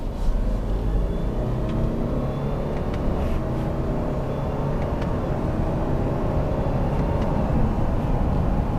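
A 2017 Subaru Forester XT pulls through a turn in second gear in manual mode, with a steady, subdued engine and road rumble heard from inside the cabin, smooth and unbroken throughout.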